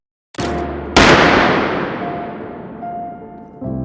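A Lone Wolf Alphawolf pistol with an LR01C slide and adjustable trigger fires 124 grain PMC Bronze rounds, one sharp crack then a louder blast ringing out nearby and decaying, then another onset at the end.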